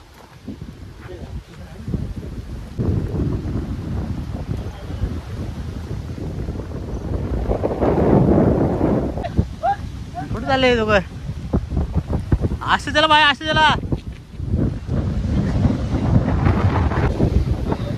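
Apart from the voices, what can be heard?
strong wind at a dam campsite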